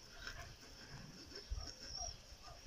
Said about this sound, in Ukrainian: останні секунди життя собаки. Він скиглить і до останнього сподівається на допомогу